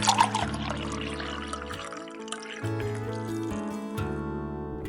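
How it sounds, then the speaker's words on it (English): Coffee poured into a cup, a soft liquid stream with rising fill tones, close and quiet, with no voices. "and you pour yourself a cup."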